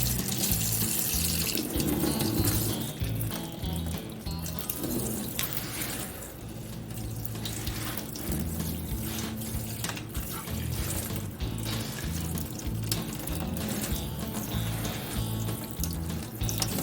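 Water running steadily from a tap into a pot, a continuous close splashing stream that goes on with no talking.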